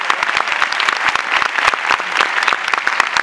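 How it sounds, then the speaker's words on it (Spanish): A theatre audience at a premiere claps steadily, a dense, close patter of many hands sustained throughout without pause. "Un aplauso para él, por favor."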